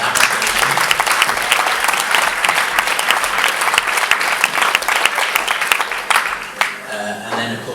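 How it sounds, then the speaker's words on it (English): Sustained applause from a crowd at a cycling club awards night, dense and steady throughout and thinning slightly near the end. "I think a round of applause there for that"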